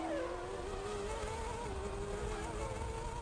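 Formula 1 race car engines from the 1994 German Grand Prix scream at high revs, a thin, nervous buzzing whine that shifts pitch steadily, sounding distant and continuous.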